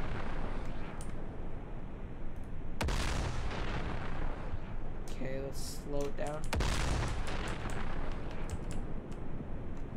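The naval gun of an Arleigh Burke destroyer fires in DCS World, two heavy booming blasts several seconds apart over a constant rumbling battle ambience, with a shorter metallic rattle between them.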